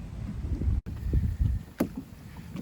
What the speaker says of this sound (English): it's now blowing straight down the lake, which means I get to paddle home directly into the wind